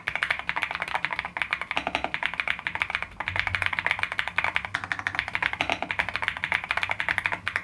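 Steady, fast typing on an MSI Forge GK600 mechanical keyboard with linear switches, dense even keystrokes close up with no talking.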